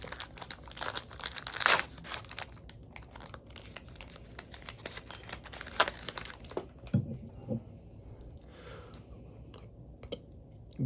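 A Panini Chronicles trading card pack wrapper is torn and crinkled open up close, with sharp bursts of crackling foil and quieter rustling between them.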